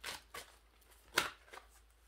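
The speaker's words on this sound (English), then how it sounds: "Shuffle the card." Quiet riffling and flicking of tarot cards being shuffled in several short bursts, with a sharper snap partway through and soft pauses between.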